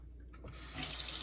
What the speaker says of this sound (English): Go ahead and get that water nice and toasty hot.